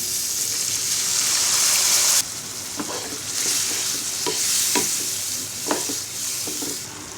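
Water is poured onto chili, cumin and coriander powders frying in a pan for Bangladeshi loitta shutki, dried Bombay duck. A bright sizzle abruptly softens, then intermittent stirring clinks and scrapes follow over a lower bubbling hiss, close by.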